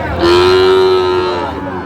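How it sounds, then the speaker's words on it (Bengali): A young Sahiwal bull calf lets out one long, loud moo lasting about a second, close by in a livestock market setting, with no talk over it. "অরিজিনাল শাহিওয়ালের বাচ্চা, ষাঁড় বাচ্চা"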